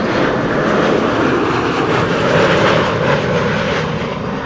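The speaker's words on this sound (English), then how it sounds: "You're going to pick up the sound of Aegean A320neo, which is landing right now" An Aegean Airbus A320neo lands at Amsterdam Schiphol Airport on a windy day, its jet roar steady and loud throughout, a broad rushing engine noise with no voices over it.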